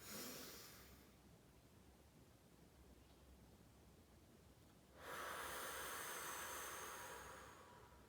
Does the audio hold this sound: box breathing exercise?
yes